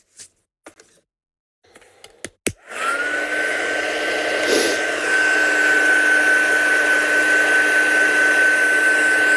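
A heat gun blows steadily and loudly on embossing powder to heat set it on a stamped card, starting after a few handling clicks and holding a continuous whirring roar with a high whine to the end.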